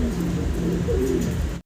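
A Mundian pigeon gives a short, close, low cooing call that runs about a second and a half before cutting off abruptly.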